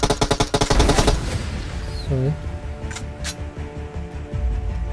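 Rapid automatic gunfire in the PUBG Mobile video game, a loud dense burst of shots in the first second, then quieter scattered game sounds and a few distant cracks.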